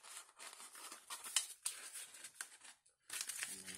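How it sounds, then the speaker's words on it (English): Die-cut paper sleeves slide into a paper envelope, giving faint, close crinkling and rustling paper scuffs in short bursts with a brief pause before the rustle resumes. "put your die cuts in your little sleeves, slide that into your envelope"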